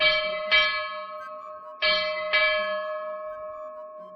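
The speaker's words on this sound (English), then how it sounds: "Then the man of time rang the departure bell." A deep church-style bell rings out three times, clear and resonant, with long ringing tails fading between strikes; no voices or other sounds accompany the tolling.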